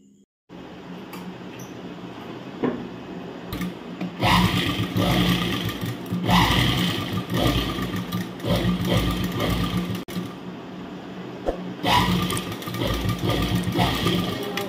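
Sewing machine stitching a side seam on fabric, running in several long continuous bursts with brief pauses between them, close and fairly loud over a steady background hum.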